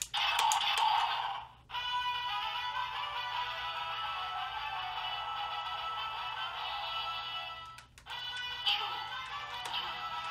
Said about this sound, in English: Hear that ice forming.